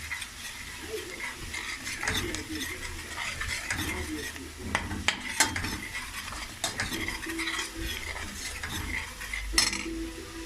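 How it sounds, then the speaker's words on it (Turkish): Constant scraping and stirring of flour toasting in a hot pan with a soft sizzle, a utensil knocking and dragging against the pan now and then. "Böyle bir yemek kaşığı un koyuyorum içine. Biraz onun kokusu çıkana kadar kavuralım."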